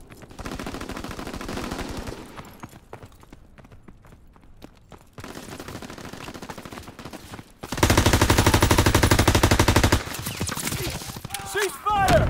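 Rapid machine gun fire in Call of Duty WWII multiplayer rattles in dense bursts, louder and heavier in the later stretch, mixed with other battle noise and shouted voices.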